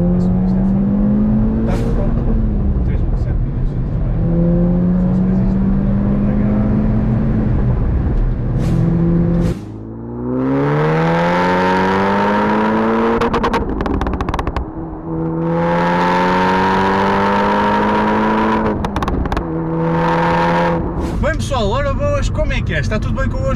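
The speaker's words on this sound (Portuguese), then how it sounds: "desta vez um Cupra, um Cuprazinho, não só de kit, mas é um Cupra verdadeiro, e cheio de pops" A SEAT Leon Cupra with 300 hp revs hard, the engine note climbing and falling in repeated loud sweeps with crackling exhaust pops, while people talk over it.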